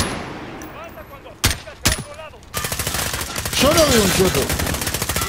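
Machine gun fire in Call of Duty: Modern Warfare, with two sharp single shots followed by a long rapid burst of close, loud automatic fire, while voices talk over it.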